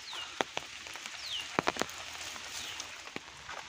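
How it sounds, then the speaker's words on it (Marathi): Soft, steady rainfall hiss beside a swollen river in Konkan, with scattered sharp drips and taps, plus a few faint chirps in the background. "पाऊस पडतोय"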